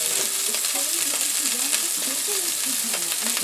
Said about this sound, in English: stir it well constantly, and it'll thicken a bit